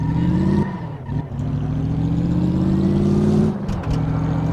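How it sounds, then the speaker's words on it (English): A V8 engine from a Salem Spectre Fastback in Car Mechanic Simulator 2015 runs loud and steady, its deep rumbling idle briefly dipping and surging as the throttle changes, with no talk over it. "Love the sound of a V8 engine."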